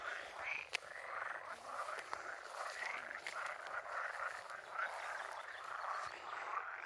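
Green frogs, probably grass frogs, call together at a pond in a constant overlapping croaking chorus, close and loud, with a few sharp clicks and no talking.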